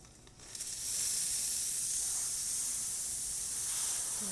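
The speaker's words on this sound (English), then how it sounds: "So hopefully you can see that nice strong steam." A La Pavoni Stradivari espresso machine's steam wand lets out strong steam, starting with a quick rise into a loud, steady, broad hiss that holds evenly for several seconds close by.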